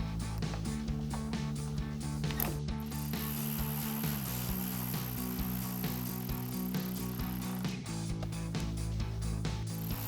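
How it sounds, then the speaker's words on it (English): Ratchet with a 7mm socket driving headlight mounting screws on a 2014-2019 Corvette C7: steady clicking of the pawl throughout, close and continuous over a low droning hum, with no speech. "Now we can install our mounting screws with our 7mm socket."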